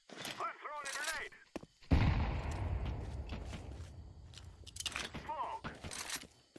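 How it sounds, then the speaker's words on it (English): A grenade goes off in a first-person shooter video game. It lands as a single loud, booming blast with a long rumbling tail. Before and after it come a voice, scattered gunfire and footsteps. "I'm throwing a grenade."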